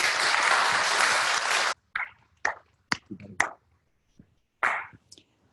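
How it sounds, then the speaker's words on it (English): An audience at a community book talk gives a round of applause. The dense clapping lasts under two seconds and stops abruptly, followed by scattered faint clicks and taps in near silence. "Let's give Betty a round of applause."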